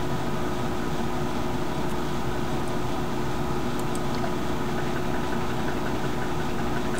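BigRed roller coaster climbing its lift hill, a steady mechanical drone with low rumble and faint clicking rattles running continuously, fairly loud and close, with no talking.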